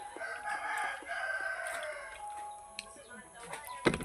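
A rooster crows nearby in a home setting, its drawn-out call fairly faint and mixed with clucking, background voices and small household knocks.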